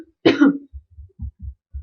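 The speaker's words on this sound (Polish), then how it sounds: "No, sorry za ten kaszel." One harsh, throaty cough bursts out close and loud, followed by a few soft, low thumps in the otherwise quiet room.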